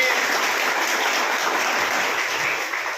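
Audience applause at an education department gathering in Vadodara: a steady, dense wash of clapping that holds at an even level for about three seconds, with no voices over it.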